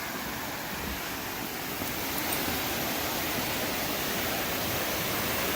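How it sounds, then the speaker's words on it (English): A waterfall gives off a constant broadband rush of falling water, steady and moderately distant, with no talking. "We're going to go down here and look at the waterfall."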